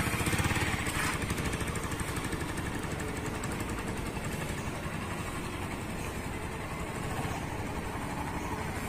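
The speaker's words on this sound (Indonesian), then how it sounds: "motor ini meskipun nggak digas juga bisa jalan asal buka koplingnya" A Honda CBR150R sport motorcycle engine idles with a steady low putter and rattle while rolling slowly, running continuously and close by for several seconds with no talking.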